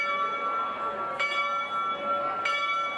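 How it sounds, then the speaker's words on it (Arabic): Church bells in Nineveh tolling in mourning, steady ringing tones sustained throughout with two sharp strikes about a second apart, moderately loud and unaccompanied by talk. "في آن واحد تقرع أجراس الكنائس في نينوى إذانا بالحداد."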